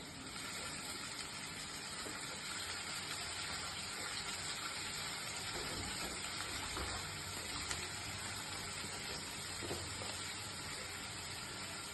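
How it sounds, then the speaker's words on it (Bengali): Fish goes into a pan of half-fried onions, producing a steady, faint hissing sizzle that holds evenly throughout with no voices over it. "আর তার সাথে মাছগুলো দিয়ে দেবে।"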